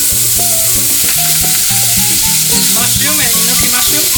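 Carrots, bamboo shoots, black fungus and mushrooms stir-fried in a hot pan for hot and sour soup, giving a steady close sizzle with spatula stirring throughout and no one talking.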